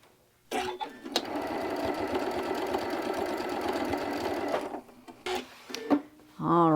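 A sewing machine stitching down pieces of a crumb fabric block, running in a steady fast whir for about four seconds with brief clicks before and after it.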